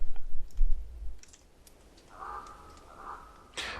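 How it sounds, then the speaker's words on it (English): A single raven's call rings out in the middle, a drawn-out croaking caw at moderate distance, with scattered soft clicks of bark falling from trees and a low rumble around it, in Mendocino National Forest. "Sound of that raven."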